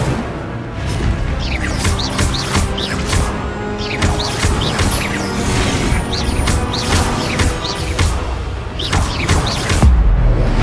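A fire spell cast during combat in the PS5 game Hogwarts Legacy, heard as a busy stretch of whooshing, crackling magical bursts and impacts layered over game music, with a heavier boom near the end.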